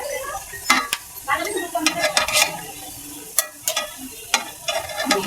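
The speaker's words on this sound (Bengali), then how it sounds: "এটা হালকাভাবে কষাই নিচ্ছি" Pieces of hilsa fish sauté in a pan, with soft frying hiss and repeated scrapes and clinks as a spatula stirs them, the irregular bursts coming close and fairly loud.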